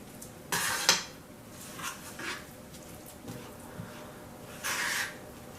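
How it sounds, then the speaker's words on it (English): Oats are stirred into a no-bake cookie mixture in a pot, the utensil scraping and clinking against the metal in a few separate bursts, fairly close and with no voices. "So you'll just keep mixing until it's all together."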